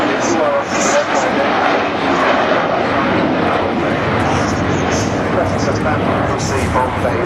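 The Avro Vulcan bomber XH558 roars overhead, a loud, steady broadband jet-engine drone that fills the whole stretch without letup.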